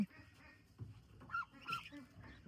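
A few short honking quacks from Pekin ducks, moderately near, with quiet gaps between the calls.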